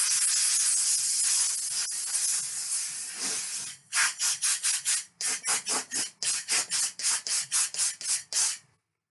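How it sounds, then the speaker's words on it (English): Bursts of compressed air from a blower blasting dust off a T-shirt being framed, first a long continuous hiss, then a rapid series of about a dozen short, loud puffs close to the mic. "I'm just giving that a blow with the blower just off camera"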